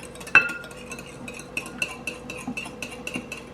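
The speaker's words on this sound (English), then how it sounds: "We're going to whisk it together." Whisk strokes clatter and clink against the sides of a large mixing bowl while ingredients are beaten together for a corn casserole, a steady run of light metallic taps close by with no voices.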